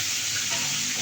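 Sliced onions sauté with curry leaves in a hot pan, giving a dense, even sizzle close up with no break across the whole moment.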